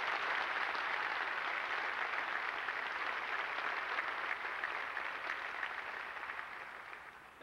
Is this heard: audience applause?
yes